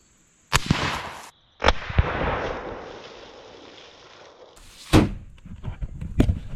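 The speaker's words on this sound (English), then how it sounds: "Shoot it again." Sharp outdoor rifle reports from a 22 ARC rifle, two loud cracks each followed by a lingering rumble, with a few softer thumps after.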